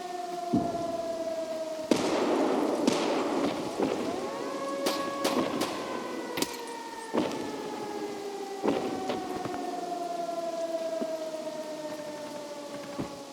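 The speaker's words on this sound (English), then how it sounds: "they'll start to throw a lot of grenades" Several sharp grenade blasts go off in the Escape From Tarkov shooter, spaced irregularly. They punch through a sustained, wavering siren-like drone and sound at a moderate distance.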